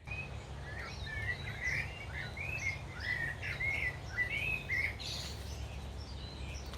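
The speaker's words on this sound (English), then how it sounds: "Listen to those birds." Several birds sing and chirp in native bush, with short warbling phrases repeating over about seven seconds, mid-distance and moderately clear above a low steady rumble of background noise.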